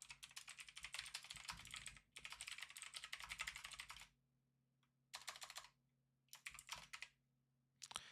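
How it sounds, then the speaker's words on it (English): Someone types on a computer keyboard in quick, close clattering bursts separated by short pauses, with a faint steady hum underneath. "Let me kind of type this up."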